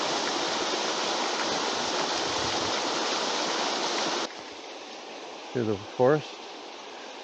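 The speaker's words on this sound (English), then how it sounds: "you can hear the water" Rushing forest stream flowing toward a waterfall near Noisy Bay on Lake Superior, Ontario; a loud, steady broadband roar of water that drops to a softer, more distant flow partway through, with brief speech near the end.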